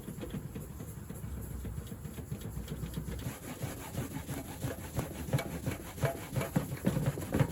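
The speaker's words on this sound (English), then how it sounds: "I'm going to use this McGuire's cleaner wax right here" Meguiar's cleaner wax rubbed by hand onto the surface of a vintage Grip Loc tackle box, giving a close, steady rhythmic rubbing and scraping that grows slightly louder toward the end, with no talk.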